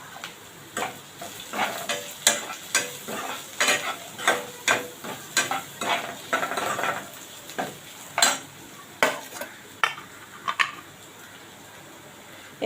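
Red chillies added to browned onion in a hot pan for dal khichdi, a faint steady sizzle with a regular series of stirring scrapes and taps of a spoon against the pan, no talking.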